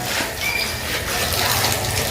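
Water pours steadily from a pump-filled tank that has overflowed after filling, a continuous broadband gush heard close and fairly loud with no speech over it.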